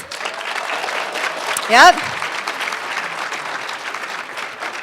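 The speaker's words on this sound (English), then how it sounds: "do a big round of applause right now for all of our teams" A room full of people at an innovation showcase session applauds the teams together, a steady wash of clapping under a brief spoken word from one person.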